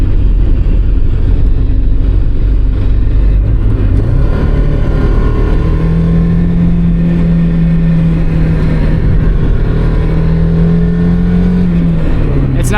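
A Mazda Miata being driven hard through corners, its engine droning and rising in pitch as it revs out, steady and close throughout with no talk over it.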